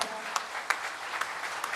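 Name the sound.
audience applause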